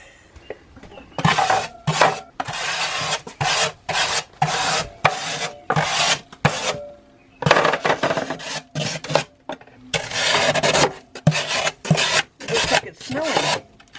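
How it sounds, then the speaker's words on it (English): A metal spatula scrapes loose, not very hard material out during a repair, in repeated rough rasping strokes of about half a second each with short pauses, close and fairly loud, with no talking. "all I'm going to do is just take a spatula and just kind of scrape that out."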